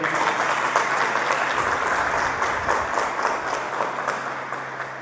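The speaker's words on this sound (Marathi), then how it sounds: "त्यांच्यासाठी आपण एक जोरदार टाळ्या वाजवूया" A roomful of workshop attendees bursts into loud, sustained applause for the absent project manager, dense clapping close by that tapers off slightly toward the end.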